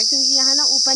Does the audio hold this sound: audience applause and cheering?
no